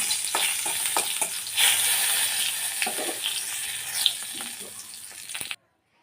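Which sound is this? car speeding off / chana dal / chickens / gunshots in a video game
chana dal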